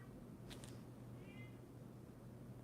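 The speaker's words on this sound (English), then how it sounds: "My other Pisces cat is meowing at the door right now." A domestic cat meows at a door indoors, a faint, brief cry or two over a steady low background hum.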